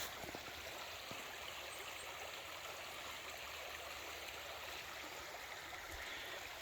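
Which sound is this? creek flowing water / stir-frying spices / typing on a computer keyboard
creek flowing water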